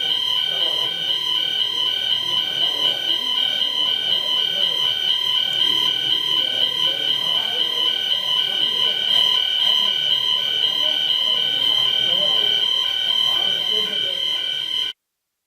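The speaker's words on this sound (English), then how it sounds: "That's I think an alarm test, so it'll go in a second." A building fire alarm sounding during a test at a business conference session in London, a steady loud electronic buzzing tone that drones on without a break for about fifteen seconds before cutting off abruptly.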